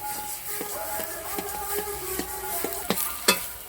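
A spoon stirs spiced pointed gourd (potol) in a pan, producing a soft sizzle with a run of regular scraping taps that grow sharper and louder toward the end.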